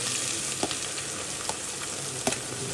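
Ginger garlic paste with a pinch of asafoetida sizzles in hot oil for pav bhaji, a steady close frying hiss with a few soft stirring taps.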